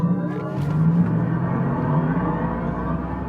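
A rising electric whine over a low rumble as a Mercedes EQE 53 AMG electric car accelerates hard from 0 to 100, the tone building steadily and smoothly with no gear changes.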